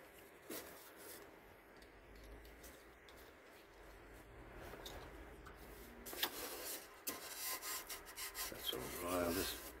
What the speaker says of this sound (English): Use the sander I was using before.